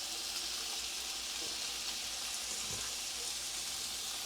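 Steak bites searing in a hot pan give off a steady, dense sizzling hiss that stays at an even level from start to finish.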